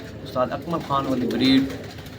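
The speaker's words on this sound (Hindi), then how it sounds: "ये कबूतर दरअसल उस्ताद अकमल ख़ान के अनमोल कबूतर हैं" Ferozpuri pigeons of the Anmol piplan breed coo in low, rolling bursts close by, with a voice talking over them through most of the moment.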